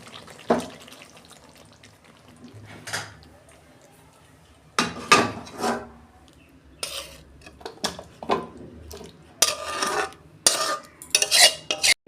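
Homemade cauliflower and potato curry is poured out of the pan, with close, loud clanks of a spoon and metal cookware arriving in irregular bursts, and brief quieter scraping between them.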